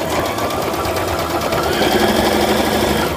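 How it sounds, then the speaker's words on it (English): A home sewing machine runs steadily, stitching up the long sides of a fabric mailing envelope with a quarter-inch seam, a continuous close, loud motor whir with no pauses. "And then I'm just sewing up the sides, the long sides now."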